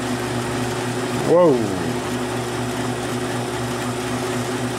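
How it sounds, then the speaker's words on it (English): A pole-mounted engine turns over steadily through a pulley arrangement at 200 RPM on a windmill setup, giving a continuous mechanical hum at a moderate level, and a voice exclaims briefly partway through. "I've changed the pulley arrangement to go to 200 RPM."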